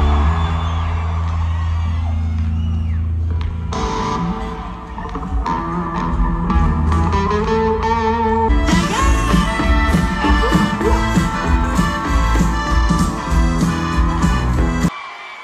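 A large crowd at a concert in Mexico roars and shouts loudly over pounding live music, the cheering swelling and staying intense for a long stretch before cutting off.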